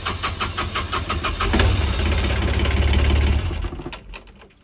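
The diesel engine of a Hallberg Rassy 352 sailboat cranks with a rhythmic starter churn, catches and runs with a loud low rumble for a second or two, then sputters and dies away.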